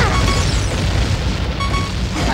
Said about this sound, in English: You set off explosions.